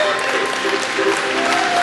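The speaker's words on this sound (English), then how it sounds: "The judges, give him a big round of applause." Applause from the crowd at a county fair rodeo-style event, a steady dense wash of clapping lasting the whole stretch, with faint mechanical creaks and background voices underneath.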